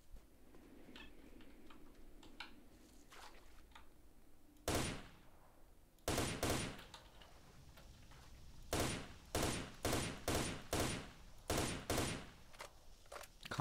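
Gunfire in the video game S.T.A.L.K.E.R.: Shadow of Chernobyl: loud, sharp shots ring out one at a time, then a rapid string of several bursts follows over a faint ambient background.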